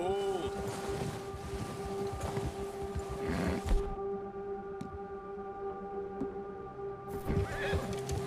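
A horse neighs loudly in the snowy Red Dead Redemption 2 wilderness, a shrill whinny near the start and end over a steady low musical drone, with hoof clops and voices talking in between.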